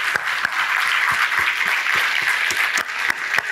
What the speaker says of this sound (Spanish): queremos darle un aplauso